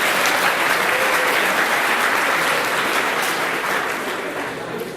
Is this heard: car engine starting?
no